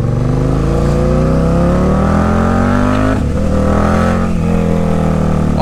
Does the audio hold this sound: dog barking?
no